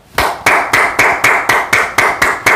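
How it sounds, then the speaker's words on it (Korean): A single person claps their hands about nine times in a quick, even rhythm. The claps are sharp, loud and close, with no talking. "제가 저에게 대한 박수를 한번 쳐보겠습니다"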